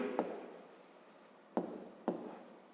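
A pen writes a math solution on paper, making a few short, close scratching strokes separated by pauses, quiet and with no talk.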